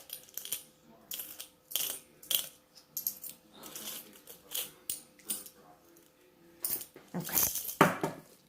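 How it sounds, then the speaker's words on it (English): Metal coins such as pennies, quarters and a dime clink and jingle as a hand sorts through them, giving a steady series of close, sharp clinks that end in a louder jangle. "I'm going to reach in and take a couple of more coins"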